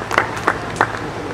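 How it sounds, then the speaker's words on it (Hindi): Brief bursts of clapping at a stage award ceremony, a few quick rounds of applause from a crowd, moderately loud. "जोरदार तालियां बजाइए।"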